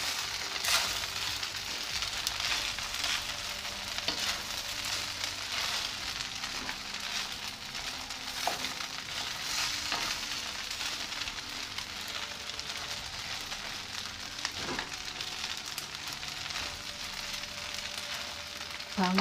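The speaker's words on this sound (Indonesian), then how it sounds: "setelah diaduk rata kemudian masukkan udang dan telur. Lalu diaduk rata lagi." Rice vermicelli stir-fried with shrimp and egg in a hot pan, giving a steady, close sizzle and hiss throughout, broken by occasional scrapes and taps of the spatula as the noodles are tossed.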